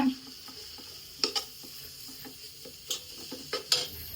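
Mutton liver frying in a pan while being stirred, with soft scraping strokes and a few light clinks of the utensil over a low background sizzle, close and fairly quiet, no talk.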